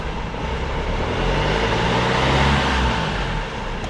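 A Jaguar XF's engine idles with a steady low rumble and even hum, close by and holding level for a few seconds.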